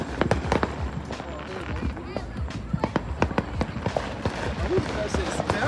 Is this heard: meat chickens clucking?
no